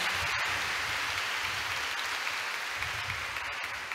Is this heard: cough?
no